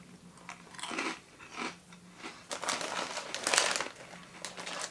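Crunchy vinegar-flavoured candy is chewed up close, giving a run of crisp, irregular crunches and bites of varying loudness, with no talking.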